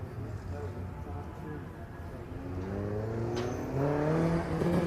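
MG Cup race cars pulling away at the start of a race, a rising chorus of engines building from a distant hum to a louder, higher revving roar, with a commentator talking over it.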